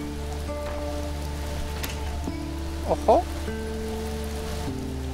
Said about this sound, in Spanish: Empieza a llover